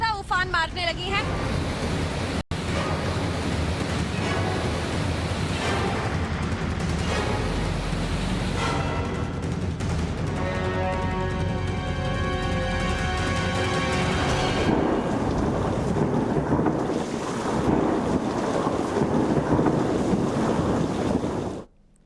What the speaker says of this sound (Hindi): विंड प्रेशर बहुत ज्यादा बढ़ चुका है और दूसरी तरफ पानी आप देखेंगे, लहरें अब कल के मुकाबले और ज्यादा उफान मारने लगी हैं